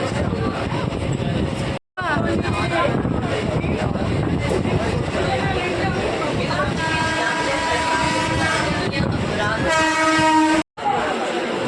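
A passenger train rumbles steadily along the tracks toward Liluah, West Bengal, with clattering wheels, and a loud horn blares near the end, with voices mixed into the din.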